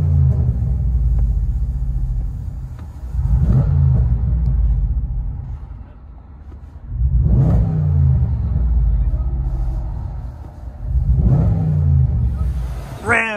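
A Ram 1500 Rebel 5.7L HEMI with a Dynomax Race Bullet true dual exhaust, resonators and tips, revving in three loud, deep bursts over a rumbling idle, heard close up.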